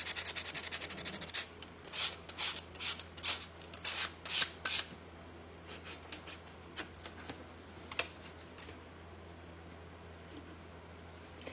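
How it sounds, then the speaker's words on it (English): Repeated bursts of abrasive scratching as sandpaper rubs wood, in quick rhythmic strokes that thin out into sparser, lighter passes. "Now we're going to sand it down just a little bit to make sure it's all smooth."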